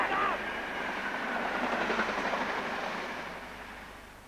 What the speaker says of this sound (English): straight into the pathway of a train which is going on the down-fast